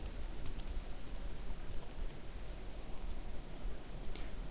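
Keys on a computer keyboard clatter in a steady, close run of soft clicks over faint background hiss, with no talk.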